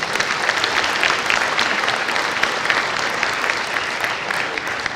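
Guests at a commemorative lecture and luncheon applaud the speaker, a moderately loud, sustained patter of many hands clapping evenly throughout.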